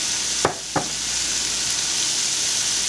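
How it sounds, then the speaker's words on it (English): Red and green peppers, red and white onions and mushrooms sauté in a pan with a steady, close hissing sizzle, broken early by two sharp utensil taps. "We're going to saute it for about 5 minutes."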